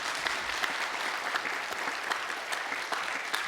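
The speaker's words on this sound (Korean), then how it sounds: "우리 박수 쳐서 들여보냅시다" Steady applause from a church congregation during a New Year revival service, a dense, even wash of many hands clapping with no talk over it.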